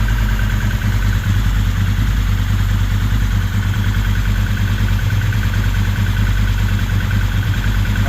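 A Ducati 916 motorcycle engine idles a little fast, a steady loud mechanical thrum with light clatter running throughout, close up and alone.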